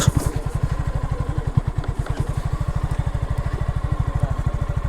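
A motorcycle engine runs steadily on a bypass road near Munshi Bazar, its loud, rapid, even thumping pulses continuing close by throughout.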